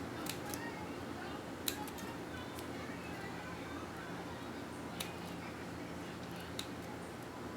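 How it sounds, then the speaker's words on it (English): Small crafting scissors snip out fine details of a paper feather for wall art, giving faint, sparse clicks and cuts over quiet room noise. "I'm going to go back with my tiny scissors and I'm going to cut out those little"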